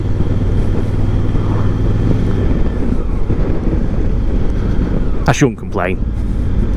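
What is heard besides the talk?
hire motorbike engine whining and rattling when revved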